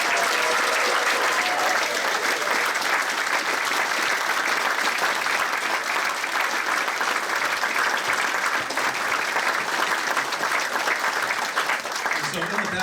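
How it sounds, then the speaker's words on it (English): A concert audience at a classic jazz event applauds the musicians in sustained, dense, loud clapping that lasts throughout, with voices faintly mixed in underneath. "if you can help me with a round of applause for these fine musicians"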